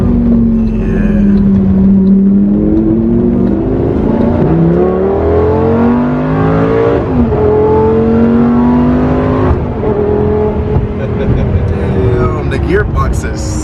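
A Lamborghini Gallardo's engine drones loud and close from inside the cabin, pitch climbing through gears with sharp shifts, while people talk over it.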